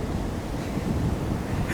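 Ocean waves wash up on a beach in a steady low rushing roar with wind buffeting the microphone, close and continuous.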